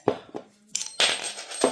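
Metal plates dropped into a cut-down airsoft speaker housing, giving a few sharp metallic clinks and a clattering rattle over about two seconds, close and fairly quiet.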